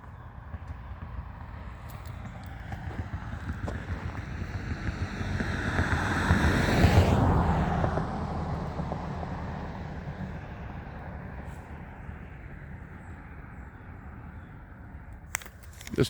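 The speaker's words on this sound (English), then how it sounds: "You can hear the vehicles coming over the bridge." Vehicles rolling over the wooden Langley Covered Bridge on a foggy morning, a rumbling pass that swells to a peak near the middle and fades, over steady outdoor wind noise.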